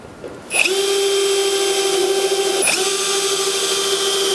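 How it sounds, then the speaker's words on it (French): A power drill drives V8 screws into a roof ridge cap on an insulated garden shed, starting with a brief squeal then whining steadily and loud, with a short catch partway through before running on alone. "je vais visser une onde sur deux, toujours avec les vis V8"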